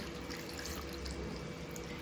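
Water poured from a vessel onto cut potato for washing, a faint, steady splashing trickle running for a couple of seconds with no voices.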